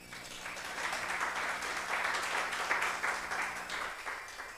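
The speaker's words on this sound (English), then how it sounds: "You clap for yourself, first of all." An audience at a blockchain incubation demo day in Rwanda gives sustained applause, a fairly quiet, even roar of clapping over a low room hum that trails off near the end.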